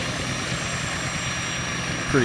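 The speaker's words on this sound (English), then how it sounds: "It's kind of a small chopper." Steady, dense rotor and turbine drone of a small Westland Wasp helicopter in Microsoft Flight Simulator 2020, a close continuous roar with a brief tonal shift at the end and someone speaking over it.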